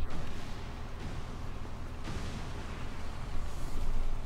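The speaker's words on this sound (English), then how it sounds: "Explosions." Dense, continuous explosion roar from XCOM Long War 2, loud and rumbling throughout with a few sharper blasts standing out against the steady low wash.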